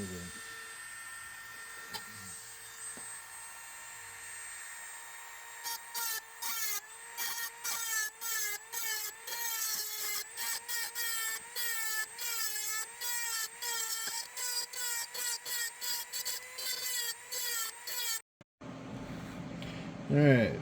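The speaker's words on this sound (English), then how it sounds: "Dremel that just to shape it a little" A Dremel rotary tool shapes a metal part for a hood ornament in a series of short, rapid, high-pitched whining bursts, close and fairly loud, with a steady hum underneath and a brief cutoff near the end.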